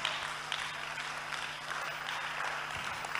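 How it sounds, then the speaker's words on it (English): Audience clapping at a church convention, a fairly faint, continuous patter of many hands in a reverberant hall with a low hum underneath. "Look at the way you are clapping."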